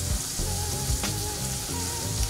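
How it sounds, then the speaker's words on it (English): Scallops sear in a pan left on residual heat after the burner is switched off, giving a steady, close, crackling sizzle that pops now and then without letting up. "That's why the heat is slowing down in the sizzle"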